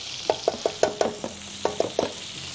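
Two butter cubes in a hot pan sizzling while being stirred, with a string of sharp clinks of a utensil against the pan over a low steady hiss, close and fairly loud, with no voice.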